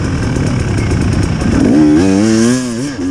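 Enduro motorcycle on an Enduro Sprint test at Hawkstone Park, loud and close, engine droning then revving up and down in wavering surges as the rider sets off.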